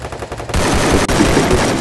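Gunfire in the mobile shooter game Free Fire: a rapid burst of loud, close automatic shots rattling continuously after a few lighter pops at the start.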